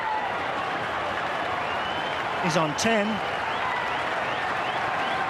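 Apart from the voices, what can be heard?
cricket crowd roaring and applauding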